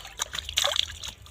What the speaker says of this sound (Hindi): बिल्कुल साफ पानी है चश्मे का पानी है साफ पानी है